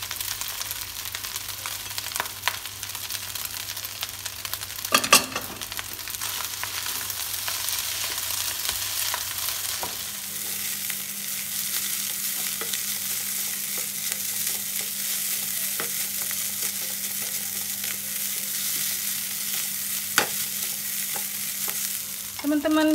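Vegetables sizzle in hot oil while being stirred for sardine fried rice, a steady frying hiss with occasional scraping stirs throughout, close and alone without talk.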